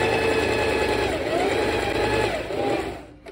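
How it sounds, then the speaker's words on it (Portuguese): A sewing machine stitches a curved neckline seam on a princess blouse, running as a steady continuous motor whir and needle buzz that slows and stops at the very end. "E vou passar a costura aqui, ó, no meu decote, fazendo essa curvinha"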